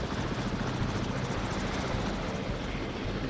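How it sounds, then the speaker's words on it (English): A helicopter in the zombie survival video game No More Room in Hell hovers overhead, its dense rotor and engine roar steady, loud and close throughout, with no talking. "I'm still underneath the helicopter here."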